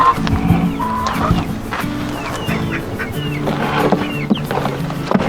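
Backyard chickens, with a goose-like honk mixed in, cluck and call repeatedly at close range in a busy, overlapping flock.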